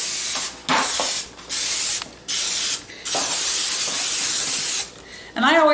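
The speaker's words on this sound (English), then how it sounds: "So let's spray our pan." Cooking spray (Pam) released onto a baking pan in a home kitchen: several short hissing spray bursts of about a second each, close and fairly loud, separated by brief pauses.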